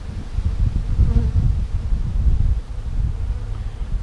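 Honey bees buzz over hive frames with a dense, low, continuous hum close to the microphone, with light rustling and wind noise underneath.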